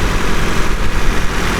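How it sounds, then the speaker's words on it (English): A 1988 Nissan Silvia S13 with a swapped SR20DET turbo engine, aftermarket intake and blow-off valve, idles steadily up close, a continuous low rumble with no talk over it. "Engine seems to run fine."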